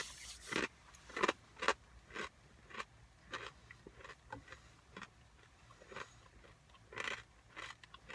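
Close, crisp crunching bites and chewing of barbecue-flavored crunchy snack mix with toasted corn from a military ration, irregular bursts separated by quiet pauses, no talking.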